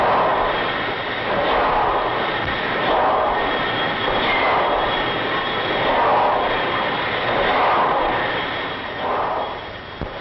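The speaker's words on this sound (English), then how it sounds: "What a big piece of machinery helping make the boat go." A steady, loud mechanical roar of a ship's engine room machinery running continuously on a 1938 dayliner, swelling and easing slightly in waves.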